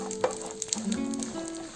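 Cashews and peanuts frying in a small amount of oil for cashew tomato upma, a steady close sizzle with a few brief clinks and stirring knocks, no voices.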